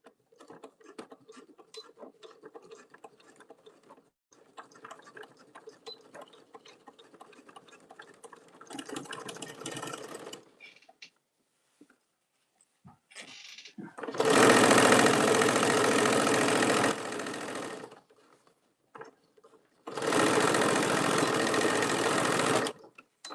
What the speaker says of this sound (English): You don't want to stress your machine, but you do have to get it sewn.